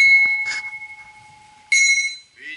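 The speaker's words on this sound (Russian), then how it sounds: "Давай как колокольный звон." Bell-like metallic rings at night by the Volga, two bright struck tones about a second and a half apart, each leaving a clear ringing decay, close and fairly loud.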